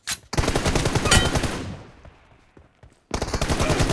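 Rapid automatic gunfire in the mobile battle royale game BGMI, loud bursts at the start, then trailing off into quieter echoing shots before another dense burst resumes near the end.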